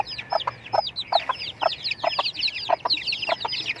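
Chickens cluck repeatedly on a farm where the flock is breeding, a brood hen among them, with steady, closely spaced clucks at moderate loudness and no talk.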